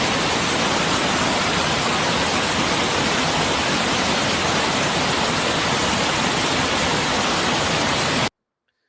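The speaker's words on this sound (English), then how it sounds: "Look at the fierceness of the water." Floodwater surges through a flooded estate in a steady, dense roar, loud and close with no letup, then cuts off abruptly near the end.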